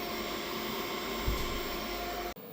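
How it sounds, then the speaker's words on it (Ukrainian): A Deye 8-12k solar inverter runs with its cooling fan, giving a steady broadband whir and hum that holds evenly and then cuts off abruptly near the end. "Ось для розуміння на фоні мого голосу, як працює шумно цей інвертор."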